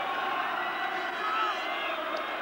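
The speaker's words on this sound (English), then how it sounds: "A noisy crowd on a special night in South Wales." A noisy football crowd at a night match in a South Wales stadium, a steady dense roar of many voices that fills the whole stretch without letting up.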